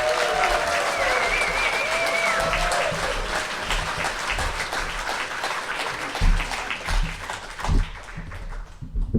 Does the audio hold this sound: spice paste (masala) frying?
no